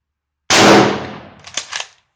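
A French MAS 36 bolt-action rifle fires a single loud 7.5x54mm shot that cracks sharply and rings off, followed by a few faint metallic clicks.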